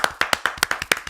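A quick run of about nine sharp hand claps in a steady rhythm, close and crisp, with no voices over them, given by a small group of football fans.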